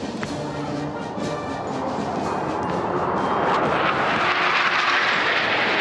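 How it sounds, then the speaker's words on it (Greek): Greek Rafale fighter jets make a second low pass over the 25 March military parade in Athens, a loud broad jet roar that swells steadily and stays strong to the end with no talk over it. "και δεύτερη διέλευση από τα ελληνικά Ραφάλ"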